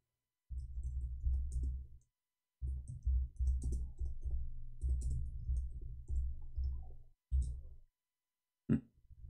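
Quiet computer keyboard typing, with bursts of soft clicking keystrokes separated by brief pauses, close and faint, and a single sharper click at the end.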